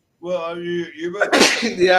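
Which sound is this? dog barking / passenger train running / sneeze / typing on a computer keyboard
sneeze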